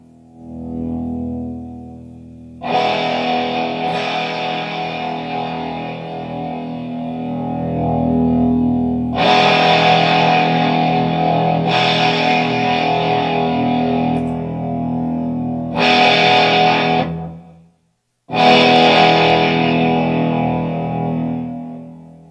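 Distorted electric guitar chords through a Line 6 Helix preset and Harbinger PA, struck repeatedly, each ringing out for a few seconds before the next hit, loud and effected with a brief gap near the end.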